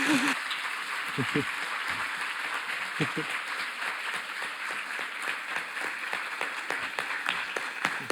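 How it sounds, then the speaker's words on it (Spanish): An audience applauds steadily, many hands clapping together in a dense, even patter that lasts several seconds. "le vamos a dar un aplauso otra vez a Patricio, agradecerle."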